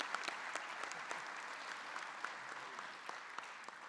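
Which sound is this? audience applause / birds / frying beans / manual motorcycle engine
audience applause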